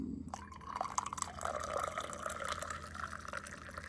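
Freshly boiled water pours steadily from a kettle in a home kitchen in Japan, a continuous splashing stream that is close and fairly loud, with no talking over it.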